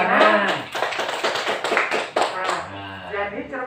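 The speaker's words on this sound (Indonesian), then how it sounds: "Bagus, tepuk tangan." Students applaud in a classroom, a quick burst of clapping and tapping that thins out after a few seconds, mixed with voices talking.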